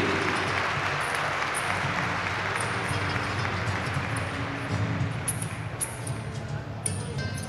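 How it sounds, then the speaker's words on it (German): An audience claps continuously at an EQUITANA horse show, a dense, loud wash of many hands heard in a large hall, with an announcer's voice faintly underneath. "Meine Damen und Herren, Ihr Applaus für Kenzie Wisley."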